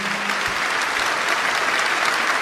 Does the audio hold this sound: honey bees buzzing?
no